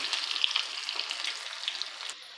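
Cumin and plenty of garlic frying in hot oil for a tadka on moong dal khichdi, a soft steady crackling sizzle with small pops, close but quiet.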